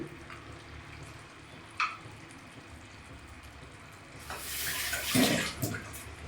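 Water is poured into a pan of Andhra-style stuffed brinjal curry, a brief splashing pour rising near the end after a quiet stretch of faint kitchen noise.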